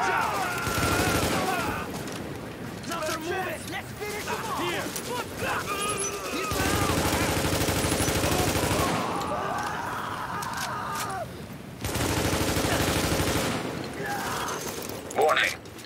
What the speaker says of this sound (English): Supplies taking fire.